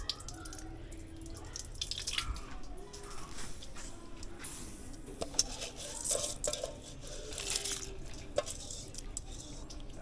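Water drains off cooked turkey necks in a kitchen pot, giving faint dripping and trickling with light clinks of cookware, quiet and close, scattered unevenly.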